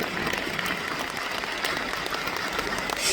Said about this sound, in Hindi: जोरदार तालियां पहले होनी चाहिए ब्रह्म कुमारी परिवार के लिए।